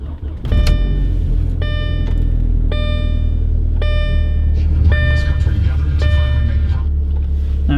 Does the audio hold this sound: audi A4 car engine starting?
yes